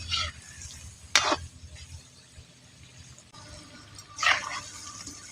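Kundri leaf pakoras deep-frying in hot oil, a steady low sizzle with crackling bursts near the start and again toward the end, close and moderately loud.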